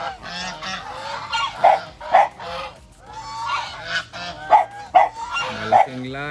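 Breeder geese, a large breed, brown ones and two white, honk loudly and repeatedly at close range in a Philippine sale pen, with bursts of overlapping calls coming in an irregular rhythm.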